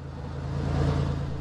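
A Toyota Supra engine in a video game hums steadily at a mid pitch, building slightly before a brief blip near the end, with no talking.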